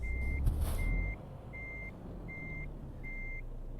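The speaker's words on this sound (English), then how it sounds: "Whenever I stop the truck and it makes a hissing sound on the gas brakes." A truck in Euro Truck Simulator 2 gives a short, sharp air-brake hiss near the start, then a steady reversing beeper sounds five evenly spaced tones over a low engine rumble.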